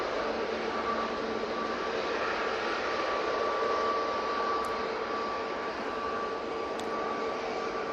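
TUI Boeing 787 Dreamliner at Manchester Airport, a steady rushing jet engine roar with a faint thin whine running through it, continuous and fairly distant, no voices.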